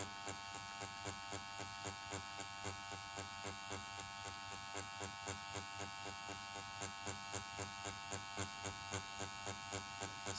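A permanent makeup machine shades an ombre powder brow with a steady electric buzz pulsing in quick, even strokes throughout, close and fairly quiet, with no talking over it.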